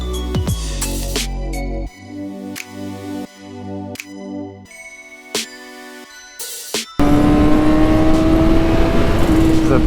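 A car driving along a road, its engine rising and falling through gear changes in short revving bursts, then a steadier loud drone with road and wind noise, no speech.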